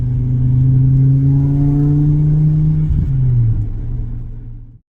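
A Volvo V70 R wagon's five-cylinder engine runs with a deep, steady rumbling drone, close and loud, with a brief revving blip midway before it settles and fades out.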